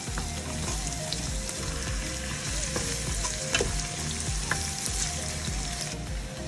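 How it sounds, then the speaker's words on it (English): Ginger and garlic paste fries in a hot pot for Kenyan Swahili pilau, a steady dense sizzle close by with a spoon scraping and stirring through it, plus a few clinks against the pot. "we're going to add in our ginger and garlic paste."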